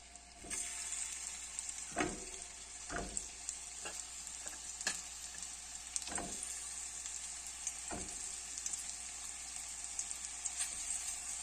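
Banana paniyaram dough balls fry in oil, giving a continuous bright sizzle punctuated by occasional stirring and scraping sounds, close and steady with no voices.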